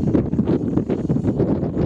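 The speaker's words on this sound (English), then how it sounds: "the wind is pretty strong" Strong gusting wind over 60 km/h buffeting the microphone outdoors during a Kai Deng K70C drone flight, a continuous loud low rumble with no talk.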